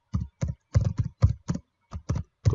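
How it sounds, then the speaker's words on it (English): Keys clack on a noisy computer keyboard, nine or ten crisp, close strikes in an uneven typing rhythm with short gaps between them. "Sorry about my noisy keyboard."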